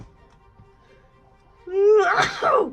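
A single loud sneeze bursts out after a quiet stretch, with a sharp, breathy release that trails off briefly.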